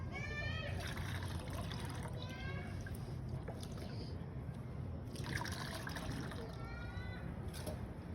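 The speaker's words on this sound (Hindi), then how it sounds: "जैसे आपने 2 ग्लासेस अगर इसको लिया है, तो 2 ग्लासेस आप नॉर्मल वाटर डाल दीजिए।" Plain water being poured into strained vermicompost tea, a continuous liquid pour and trickle heard close by, with a person talking over it throughout.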